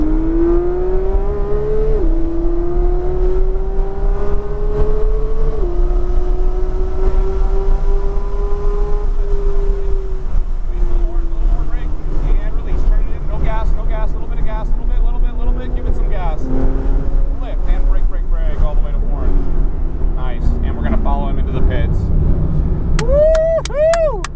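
A Porsche GT3 on the Homestead race track drones loudly inside the cabin, revving up in pitch through the gears with brief dips at shifts, while people talk over it.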